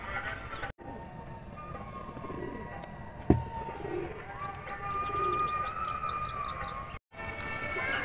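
A pigeon coos several times in a soft, rhythmic series, with some light chirps, steady background noise and a single sharp knock partway through.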